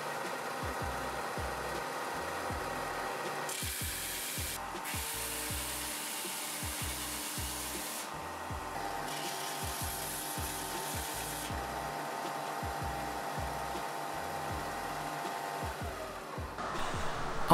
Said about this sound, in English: I took the puzzle over to my belt sander and I started sanding all the faces down